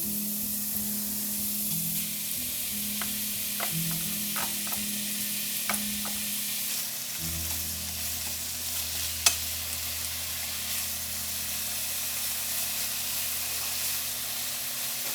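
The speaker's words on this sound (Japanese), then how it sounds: "お肉を炒める" Meat stir-fried in a pan for nikujaga gives a steady, moderate sizzle and hiss, with a few clicks of utensils and a low background hum, no talking.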